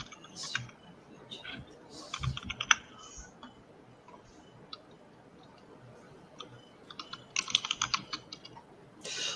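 Computer keyboard typing in quick bursts of clicks separated by pauses, close and fairly quiet, with no talking.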